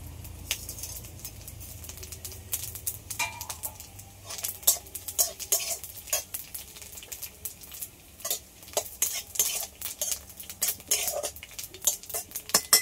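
Cumin and chili frying in a pan with ginger, a low sizzle under repeated clinks and scrapes of a utensil stirring against the metal, growing busier and more rhythmic after the first few seconds; no talking.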